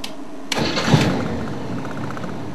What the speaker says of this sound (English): Run the engine a few seconds for the benefit of the spotlight.